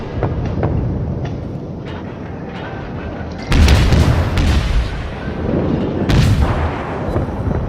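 Warship guns firing in the World of Warships video game, heavy booming salvos at about 3.5 and 6 seconds over a continuous rumbling battle background.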